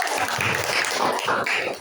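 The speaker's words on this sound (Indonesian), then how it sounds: "Tepuk tangan" Students clapping in a classroom during a lesson on the human respiratory system, a short, bright burst of many hands close by, fairly loud and even, with no voices over it.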